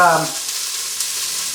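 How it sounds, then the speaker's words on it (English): Diced vegetables for lentil soup sweat with salt in an Instant Pot, giving a soft, steady sizzle and hiss. It is close and even throughout a brief moment, with a faint tonal trace at the very start. "I like to sweat the vegetables, I like to salt them when I'm cooking them"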